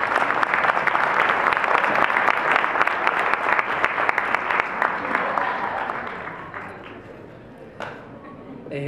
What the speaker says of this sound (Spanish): Les pido, le ofrezcamos un caluroso aplauso.